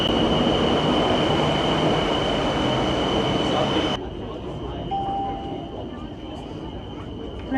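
Rumble and hiss of a crowded Bangkok metro train in motion, loud and steady, with a faint squeal from the wheels; the noise drops sharply partway through as the carriage sound changes, and a voice talks faintly under it.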